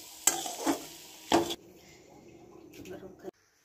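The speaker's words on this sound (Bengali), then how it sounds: "নামিয়ে নেওয়ার আগে যে গুঁড়োটা করেছিলাম সেই গুঁড়োটা মিলিয়ে দেবো এর ভেতর, 5 ফোড়ন আর জিরের গুঁড়ো।" A spoon stirs a vegetable chop mixture with five-spice and cumin powder in a pan, giving a few sharp scraping knocks and a soft sizzle between them, then sudden silence.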